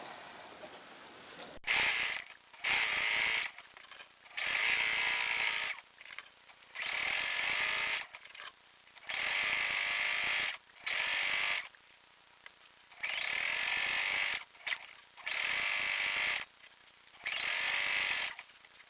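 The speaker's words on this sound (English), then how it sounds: "I'm going to sew all the way to the other side." A sewing machine stitches a mitered quilt border in repeated bursts of steady mechanical whirring, each a second or two long, separated by brief pauses, close and clear with no talking.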